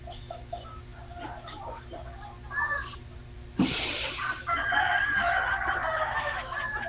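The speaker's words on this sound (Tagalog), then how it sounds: "Maingay yung manok eh" A rooster crows loudly nearby, a long strained call, with clucking and background murmur around it.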